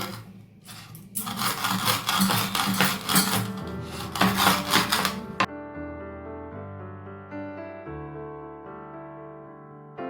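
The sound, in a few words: grinding roasted whole cumin seeds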